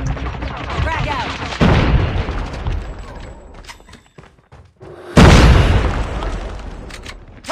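A frag grenade explosion in Call of Duty Mobile, a loud sudden boom near the middle of gunfire-heavy game action, with a second heavy blast shortly after and clattering battle noise throughout.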